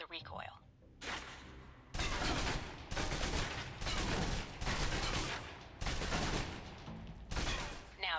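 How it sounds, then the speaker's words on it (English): Submachine gun fire in the video game Alpha Protocol, several sustained bursts of rapid automatic shots separated by short pauses, loud and close. "Now, let's move on to the submachine gun."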